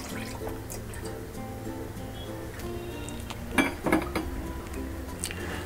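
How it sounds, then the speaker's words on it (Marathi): Warm ghee poured into a metal pot in a home kitchen, a steady quiet trickle with small drips, broken by a couple of sharp clinks of the vessel near the end. "त्याच भांड्यात आता तूप ओतूया"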